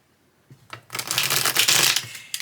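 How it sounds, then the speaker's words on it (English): A crisp riffle shuffle of tarot cards, a short soft flutter building to a dense ripping patter, close and alone. "I can do the riffle shuffle with it easily."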